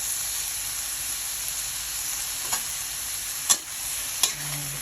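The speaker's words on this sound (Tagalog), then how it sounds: "Pre-boiled siya pero hindi siya masyadong luto. So, sinama ko pa rin siya sa gisa. At saka itong string beans." Carrots, broccoli and string beans sauté in a pan with a steady, fairly quiet sizzle and hiss, broken by a few short stirring clacks near the end, no voices.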